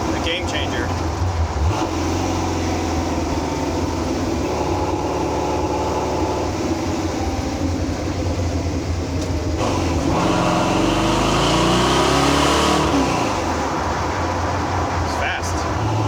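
A 1935 Ford Factory-Five race truck with a 427ci engine rolling over bumpy ground, a loud steady engine drone with rumbling road noise and a brief surge in revs, while someone talks throughout.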